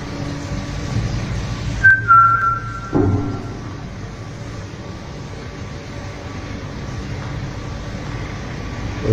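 A man's short whistle at a single steady pitch, then a lower thud, over a dull rumbling background with no talking.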